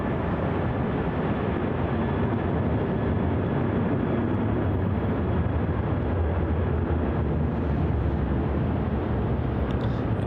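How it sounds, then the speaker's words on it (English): Virgin Australia jet departing runway 34 at Melbourne Airport, bound for Sydney: a steady, loud broadband engine roar sustained throughout with no pauses and no voices. "It's going to be Virgin Australia flight VA 815 off to Sydney as well."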